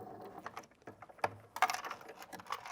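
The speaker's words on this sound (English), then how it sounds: "we backstitch to close that stitch" A sewing machine backstitching around a V-neck neckline, heard as irregular short mechanical clicks and whirring bursts with pauses between them, fairly close and moderately quiet.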